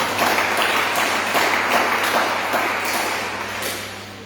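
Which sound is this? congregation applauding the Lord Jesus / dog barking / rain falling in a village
congregation applauding the Lord Jesus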